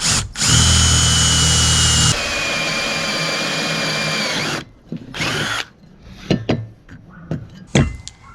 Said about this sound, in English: I'm just gonna start and make a small hole with this little 3/16 drill bit right here